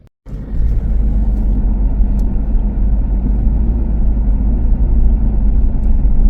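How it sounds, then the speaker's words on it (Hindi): Road traffic on a hot mountain road on the Spiti to Manali circuit near Langza, heard as a loud, continuous rumble of vehicle engines that starts abruptly and stays steady throughout. "गर्मी के साथ साथ ही ट्रैफिक भी यहाँ बहुत ज़्यादा है।"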